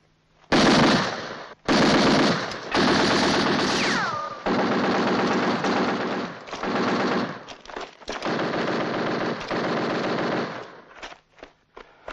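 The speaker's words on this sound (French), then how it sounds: "Tirez quelques rafales pour voir." Machine gun bursts in a wartime battle at El Alamein, loud, close, sustained rapid fire in several long bursts with short gaps, a brief rising whine near the start.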